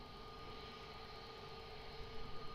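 An airliner on the runway at Lisbon Airport gives a steady, distant jet roar with a constant whine, unchanging over a few seconds, with no voices.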